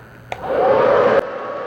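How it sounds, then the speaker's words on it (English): A blow dryer switches on and roars steadily over freshly poured acrylic paint mixed with Amsterdam black, Floetrol and cell activator, a loud close whoosh lasting about a second before cutting off sharply. "Try the blow dryer here."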